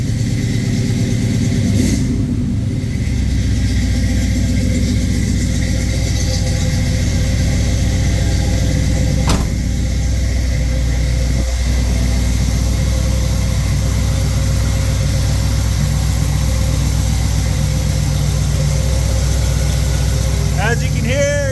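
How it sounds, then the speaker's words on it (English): A 1972 car engine, just fitted with a new gasket, idles steadily after a cold start in a shop, a smooth low rumble running continuously and loudly with a few brief clicks and knocks. "I'm gonna give you a nice cold start so that you can hear it run."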